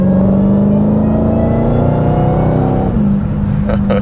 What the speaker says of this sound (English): the supercharger makes a fantastic noise as you're just, you know, hustling your way downtown